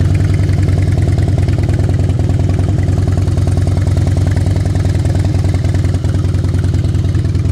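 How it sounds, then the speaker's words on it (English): A fuel-injected Harley-Davidson Softail Night Train FXSTBI with a high-flow air cleaner and 21,020 miles, its engine idling loud and close with a steady, even rumble throughout. "Fuel injected bike. Pops right off."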